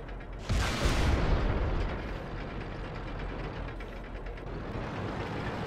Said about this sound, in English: So we saw the E-100 fired there.